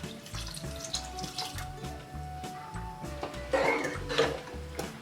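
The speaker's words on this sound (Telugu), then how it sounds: "సో ఇప్పుడు దీనిలోకి మనం తగినంత నీళ్ళు యాడ్ చేస్తున్నాం" Water pours into a pot of tomato dal, a splashing gurgle with soft clinks of the pot, close and moderately loud under a faint background tone.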